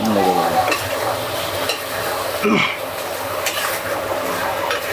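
Momos fry in a pan with garlic, ginger and coriander while being stirred, a steady sizzle broken by scraping and clinking of a utensil against the pan.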